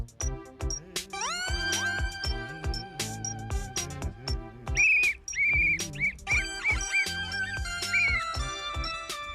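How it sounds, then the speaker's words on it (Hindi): A traffic police officer's whistle stopping a vehicle in a TV comedy gives several short, shrill blasts in succession, heard over busy background music. "सिटी सुनी नहीं थी क्या?"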